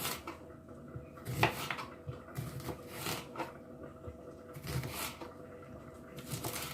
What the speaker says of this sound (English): Onion, just gonna do regular slices, regular onion slices.